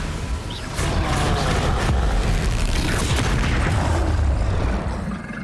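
Bombarda spell blasts hit an armored troll in Hogwarts Legacy, giving a loud, continuous booming roar of explosions that holds steady and then tails off at the end.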